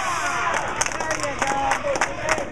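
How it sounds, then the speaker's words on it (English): A crowd cheering and shouting at a bowling match in a large room, lively voices and whistles overlapping, with claps and talk mixed in. "Now the Amarillo crowd making some noise from both sides of us here."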